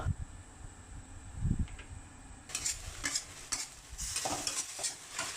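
Pork and long eggplant stir-fry over high heat in a wok, a quiet sizzle overlaid with repeated clattering scrapes and tosses of the spatula that grow busier partway through.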